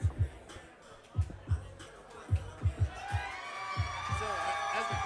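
Arena crowd at a lightweight boxing bout swells into sustained cheering and whoops after the fight, preceded by scattered thumps, with commentary voices running underneath.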